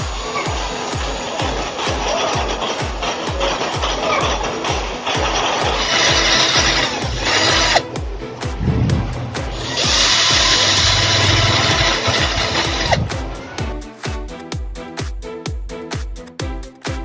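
An electric drill enlarges a screw hole so that the screw head can sit flush. It whines loudly in long continuous runs, the pitch shifts as it bites, and it ends in a series of short stuttering pulses.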